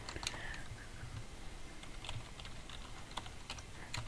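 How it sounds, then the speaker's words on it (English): Computer keyboard typed with only one hand, giving irregular clusters of key clicks over a steady background hiss, fairly close and alone with no voices. "I'm only typing with one hand, so kind of hard."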